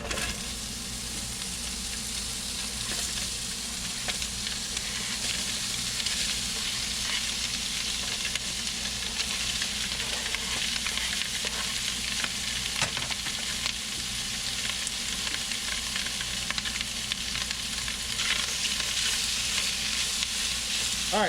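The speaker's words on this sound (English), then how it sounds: "Chop up our andouille sausage and go ahead and get it going." Chopped andouille sausage frying in a pot for a one-pot Cajun dish, a steady, even sizzle of hot fat crackling continuously with occasional faint stirring clicks and no talking.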